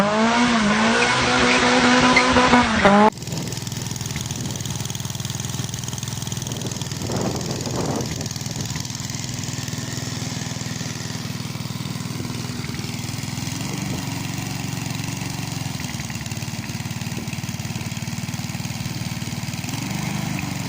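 A small lawn mower engine, just repaired after carburetor trouble, roars loudly for a few seconds, then cuts to a lower steady hum that runs on with occasional rattles.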